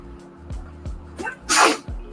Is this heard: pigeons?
no